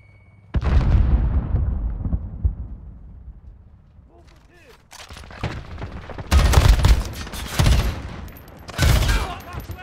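Grenade blast and gunfire in a shooter video game's team deathmatch on an airbase map: a loud burst, then a quieter lull, then repeated heavy explosive bursts and crackling fire with game voices over them.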